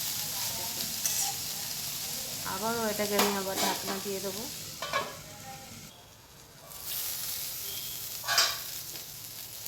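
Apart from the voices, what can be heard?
frying in a pan on low heat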